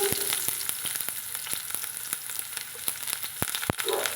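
Mustard seeds and onions frying in hot oil in a kadai, tempering for idli kurma: a close, continuous sizzle punctuated by sharp, irregular pops and crackles.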